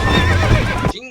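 Horse in the Red Dead Redemption video game lets out a loud, close, shrill whinny that cuts off abruptly after about a second, with no talk over it.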